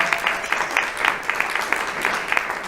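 An audience at a Latin American theatre event applauds an actress, dense steady clapping from a crowd heard close and continuous.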